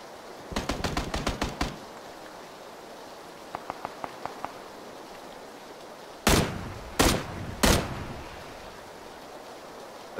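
Bursts of gunfire in the battle royale game PlayerUnknown's Battlegrounds: a rapid string of automatic shots, a fainter distant burst, then three loud, close single shots with short echoing tails.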